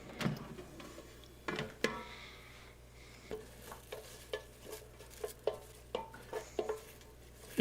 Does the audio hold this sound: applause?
no